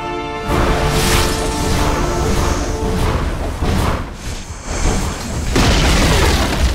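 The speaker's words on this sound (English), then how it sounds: "Radiant's middle tower is under attack!" Dota 2 explosions and heavy booming impacts hit a middle tower in a professional match, with loud, dense, repeated blasts and crashes layered over a constant din of game effects.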